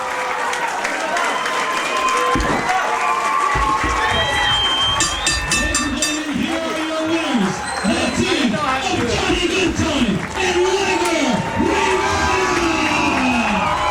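A capacity crowd at a pro wrestling show roars with sustained cheering and applause after a match ends, loud and continuous, with a commentator's voice running over the noise.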